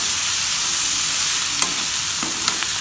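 Cluster beans and gram flour frying in plenty of oil over high flame, a dense, steady close-up sizzle with a couple of soft stirring scrapes, no voices.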